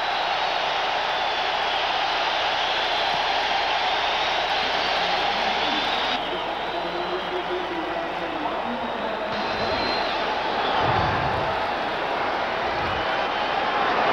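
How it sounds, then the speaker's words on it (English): A large football stadium crowd in Miami roars steadily throughout a Patriots at Dolphins game in 1990, with a dense, continuous wash of cheering and no pauses. "Listen to this crowd in Miami."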